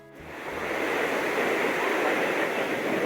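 Ocean surf on a beach at Rincon de Guayabitos near Puerto Vallarta makes a loud, broad, continuous wash of breaking waves that swells in within the first moment and roars on steadily.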